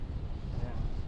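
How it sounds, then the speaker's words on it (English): Strong wind from Hurricane Idalia batters a beach on the Georgia coast, a loud continuous low roar buffeting the microphone, with faint voices underneath. "Pretty windy now."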